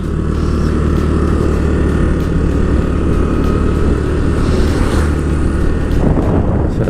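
A 2021 Honda Dio scooter engine drones steadily while riding, loud and close with constant wind rush and road noise throughout.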